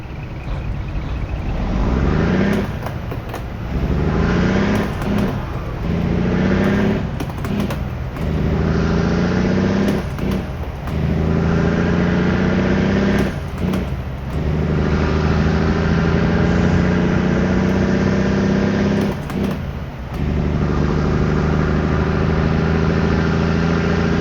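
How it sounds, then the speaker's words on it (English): A truck engine in American Truck Simulator revs up repeatedly, pitch climbing then dropping with each gear change, a loud steady drone with several distinct shifts in succession. "it was fun to listen to the engine go up through the gears"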